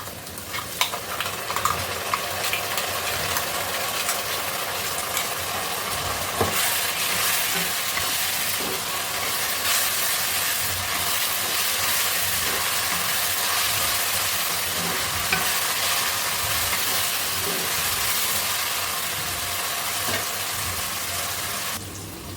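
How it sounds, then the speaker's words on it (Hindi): Ginger garlic paste and green chili paste fry in a pan over golden-brown onions for a village-style desi chicken dish, giving a steady, loud sizzle with occasional stirring scrapes and no talking. "अब हम उसमें अदरक लहसुन का पेस्ट और हरी मिर्च का पेस्ट डालेंगे।"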